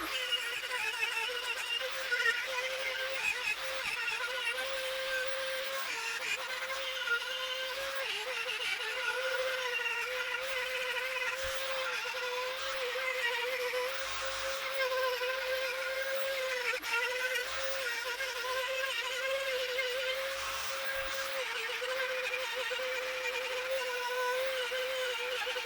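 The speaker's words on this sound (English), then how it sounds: "Now I'm onto the die grinder. This is a non-ferrous bit, especially for aluminium" Die grinder fitted with a non-ferrous bit cutting aluminium, a steady high-pitched whine held for about 25 seconds with slight shifts in pitch as it bites into the metal, close and without talk.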